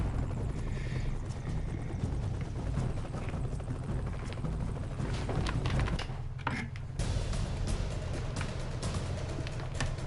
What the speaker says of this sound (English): This is our little helicopter.